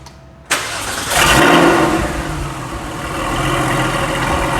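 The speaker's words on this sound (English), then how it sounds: "let it run a little, let the oil get everywhere, through the engine" A Porsche 993 911 engine cranks and fires up after an oil change, then settles into a steady, loud idle with a deep rumble.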